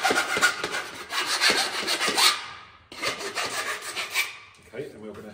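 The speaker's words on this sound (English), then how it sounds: "using a half round file." A half round file rasps against a plastic waste pipe end to chamfer it, repeated close scraping strokes in two bursts separated by a short pause.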